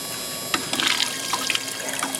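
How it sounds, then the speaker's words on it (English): Water poured and washed over a small gold trap sluice tilted to one side, a steady close splashing trickle with brief surges of gushing flow. "Put me a little more water on here."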